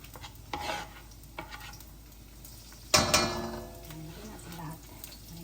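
Chopped garlic sautéing in a pan, with a soft sizzle under scraping and stirring strokes and one louder clatter midway.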